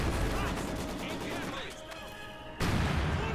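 Mortar rounds strike in a Company of Heroes 2 battle between Soviets and Wehrmacht: a dense barrage of booming, crackling impacts that dips into a thinner stretch, then a sudden loud blast returns near the close.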